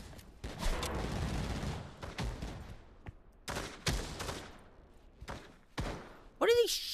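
Gunfire in the VR shooter Pavlov VR: a run of scattered sharp shots and bursts, some near and some farther off, mixed with players talking.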